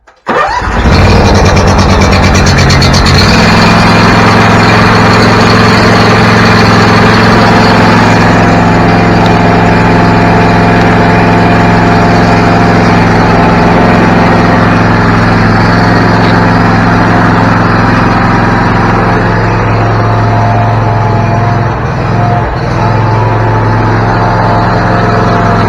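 An engine cranks and catches, then settles into a loud, steady idle that runs on continuously at close range with no voices.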